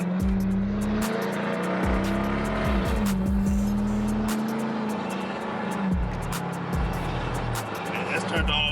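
A Dodge Charger SRT with a pedal box set to 100% throttle, its engine droning steadily with rising and falling revs, loud and close, while a person talks over it.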